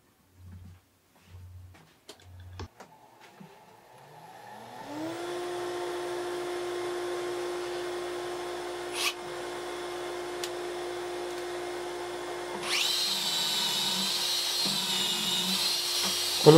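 A drill spins up and bores pocket holes through wood in a Kreg pocket-hole jig for a desk build, a few clunks first, then a sustained whine that steps higher and louder as the bit cuts.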